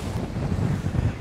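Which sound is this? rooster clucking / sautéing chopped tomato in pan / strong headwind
strong headwind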